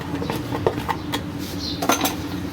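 Dates and Tang batter being stirred into a fruit chaat: a spoon clinks and scrapes against a bowl in several scattered taps over a steady low room background, with no talking.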